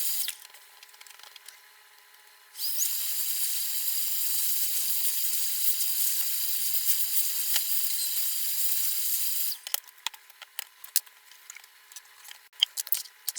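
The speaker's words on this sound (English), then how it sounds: "The variable capacitor is washed with alcohol and dried with the air blower one more time" Air blower hisses in a steady, loud rush for several seconds while drying an alcohol-washed variable capacitor from a 1947 Papa-Radio P.R.6 set, followed by scattered small clicks and handling taps.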